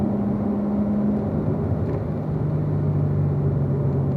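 A Corvette Z06 circling a race track, its engine a steady, loud droning rumble with a low tone that drops slightly partway through, heard from close by without any speech.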